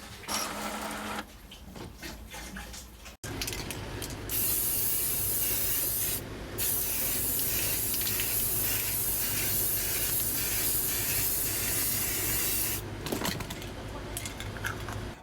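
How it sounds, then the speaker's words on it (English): Clear lacquer aerosol spray can coating a custom vintage Transformers G1 toy package, a loud close hiss in long sustained bursts with brief pauses and rattly handling noises between. "give it a coat of clear lacquer spray and let it dry"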